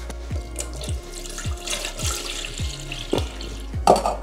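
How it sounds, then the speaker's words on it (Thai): Water pours and splashes into a cat water fountain while it is refilled after cleaning and a filter change, a steady close trickle with a few bright clunks from the container near the end. "เอาน้ำมาใส่กัน"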